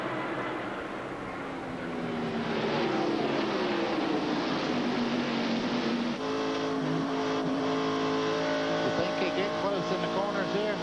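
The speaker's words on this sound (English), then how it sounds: "I guarantee you couldn't put a sandwich wrapper in between Jeff Burton's car right there and Mike Skinner as they started off turn one there" NASCAR Winston Cup stock cars race at the 1997 Pennsylvania 500, their engines roaring loudly and continuously with rising and falling pitch as the pack passes, while a commentator talks over the noise.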